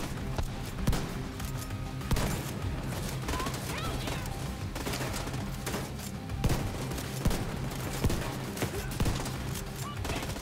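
Shotgun blasts from The Division 2 New York DLC ring out in a busy firefight, several sharp broadband bangs spaced irregularly over constant game noise and scattered shots, loud and close.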